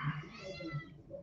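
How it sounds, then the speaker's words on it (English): A cat meows just outside a door, one drawn-out, fairly clear cry at close range over a quiet room. "as the cat is outside my door"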